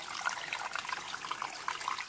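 Water from a mountain spring source trickles and splashes softly and steadily, a faint continuous gurgle with no voices.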